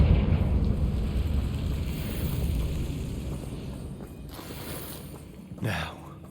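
A blasting-spell explosion from Hogwarts Legacy rumbles loudly at the start and fades into a long low roar, followed near the end by a sharp whooshing burst.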